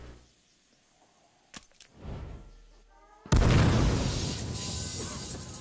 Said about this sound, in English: Oh my god, where are all these gas grenades coming from?